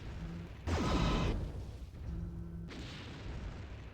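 Heavy weapon fire from a mech in MechWarrior 3, a single loud booming blast with a sweeping whoosh that swells for about half a second and then fades into low rumbling background.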